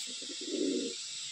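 A Madrasi pigeon with fine, high-quality feathers and a closed tail gives one short, soft, low coo, preceded by a few brief murmurs, over a steady background hiss.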